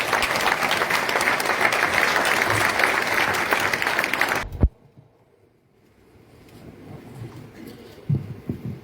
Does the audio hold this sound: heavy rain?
no